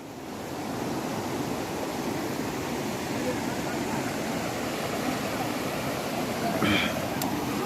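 Mottampatti falls roaring as a steady, broad wash of falling water close by, continuous and loud throughout, with a brief faint sound near the end.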